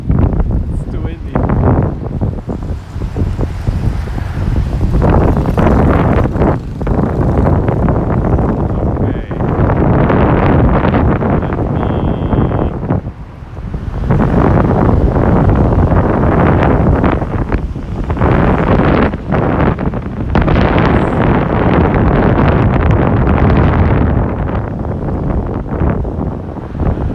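Strong gusts buffet the microphone at a Mount Fuji viewpoint, roaring in loud, uneven bursts throughout, with people talking underneath.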